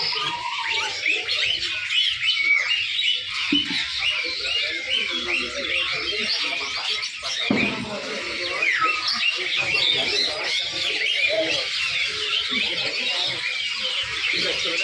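Many caged songbirds for sale at a roadside market chirp, whistle and squawk continuously in a dense, busy chorus, with a brief voice and some background bustle underneath.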